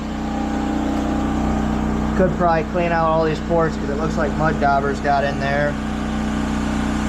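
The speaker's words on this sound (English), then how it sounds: "Apologize for the engine noise. There's a generator running my workshop" A generator runs steadily inside a workshop during work on a budget-built small block Chevy engine, a continuous mid-pitched engine hum that sits under someone talking close up.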